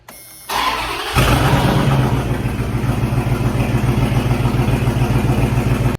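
A Dodge engine with a clogged exhaust starts up and settles into a loud, rough, rumbling idle with a steady pulsing throb, heard close.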